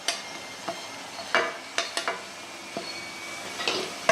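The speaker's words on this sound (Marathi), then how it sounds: "हे पहा, आणि असं परतून घेते। मस्त खरपूस परतून घ्यायचं" Green chili sabzi with asafoetida, turmeric and ground masala being sautéed in a pan, with a soft sizzle under scattered scraping stirs and spoon taps against the metal.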